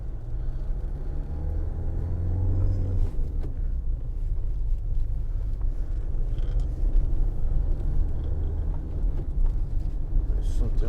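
A 2012 Ford Transit 2.2 TDCi medium-roof van driving, with a steady low diesel rumble and road noise from inside the cab, plus faint rattles and a brief rising engine tone early on.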